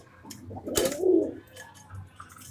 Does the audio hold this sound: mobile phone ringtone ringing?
no